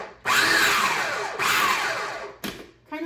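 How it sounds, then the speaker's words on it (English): Cooked chicken is pulsed into a coarse meal in a food processor, heard as two loud whirring bursts that rise and then wind down, followed by a brief third pulse and a short restart. "I'm just going to pulse this until the meat is like a"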